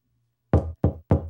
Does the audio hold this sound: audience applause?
no